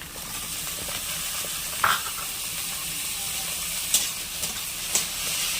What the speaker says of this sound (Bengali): এবার দিয়ে দেবো আমাদের কুচিয়ে রাখা আলু